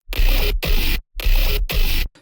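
Bass samples from a sample pack, four heavy, gritty, distorted bursts in a short call-like pattern, separated by brief gaps, loud and alone.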